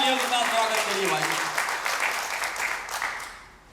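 Crowd claps loudly to welcome a speaker at a Hindi-language Bhasha Samvad gathering, dense applause that fades toward the end, with a brief tonal voice or sound trailing off early on.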